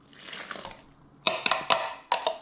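Water poured into a bowl of yeast for a same-day quick New York pizza dough, a few close splashy pours with short pauses between bursts, after a softer trickling start.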